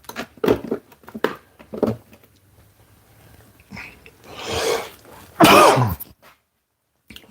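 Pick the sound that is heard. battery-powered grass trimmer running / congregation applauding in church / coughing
coughing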